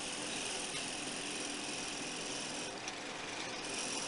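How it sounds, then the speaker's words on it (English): A drill press drives a 3/4-inch paddle bit steadily down through a wooden block, a continuous harsh rasping whir with a motor hum, close and loud, with no voices. "I'll take a 3/4 inch paddle bit and I'll line up and drill right down through the center"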